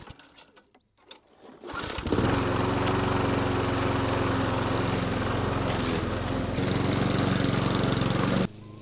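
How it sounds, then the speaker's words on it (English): A lawn mower starts up and runs steadily at close range, its engine droning loudly and evenly while cutting grass in a garden plot being prepared for no-dig beds, then cuts off abruptly near the end. "I'm going to run over it with the lawnmower"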